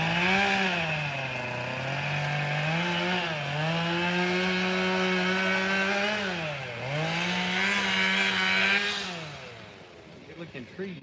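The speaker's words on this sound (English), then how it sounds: "All you can hear is the chainsaw." A chainsaw cutting wood near a Florida bass fishing spot, its engine droning loudly and steadily for about nine seconds with rising and falling pitch as it works, then easing off toward the end.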